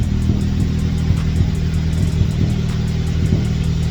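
A turbocharged sleeper Honda engine runs with its exhaust popping in a quick, regular stutter over a steady mid-pitched engine drone, close and fairly loud, with tired injectors suspected.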